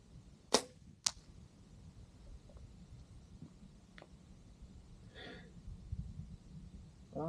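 Two sharp, close thwacks sound about half a second apart as arrows strike a turkey target during outdoor bow practice, followed by quieter faint knocks and rustling in a calm, low-wind setting.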